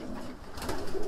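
A homing pigeon coos softly and close by, a few low, throaty murmurs rising toward the end over a steady background hiss.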